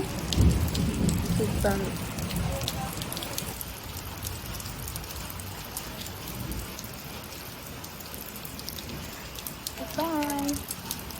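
Steady rain pours down in a dense, even hiss that lasts throughout, loud and close, with a few brief spoken words at the start and near the end.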